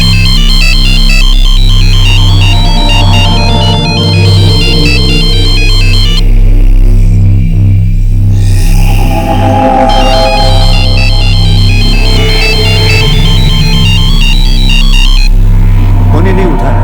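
A telephone rings over and over, unanswered, its repeating electronic ringtone pattern loud and steady under a low hum, with short breaks and a voice speaking briefly partway through.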